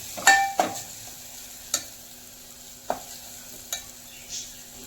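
Green chili paste roasting in a little oil in a pan, heard as a faint background sizzle broken by several sharp, isolated scrapes and clinks of a spoon against the pan, close, without speech.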